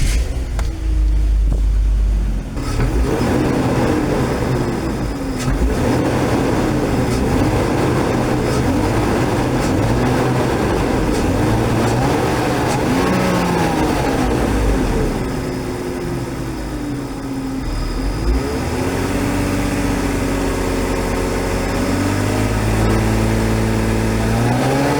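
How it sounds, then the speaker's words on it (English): Six-cylinder engine of a project car running steadily nearby, a loud continuous idle with rhythmic low rumble and a few rising revs toward the end, no talk. "Would you listen to that? 6-cylinder goodness."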